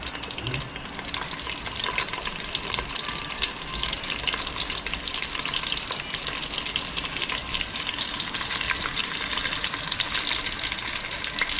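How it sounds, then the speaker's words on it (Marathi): Curry leaves and garlic fry in hot oil in a pan along with chillies, making a steady, close crackling sizzle that runs the whole time with no talking. "कढीपत्ता टाकणार आता लसूण लसूण चांगली लाल होते जरा"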